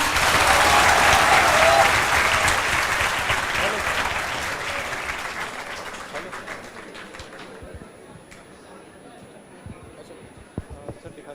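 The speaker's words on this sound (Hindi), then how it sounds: "तो सर के लिए एक बार वापिस जोरदार तालियां।" Loud applause from a classroom audience of students for a visiting teacher, dense clapping at full strength that gradually thins and fades over several seconds, leaving scattered claps and room noise.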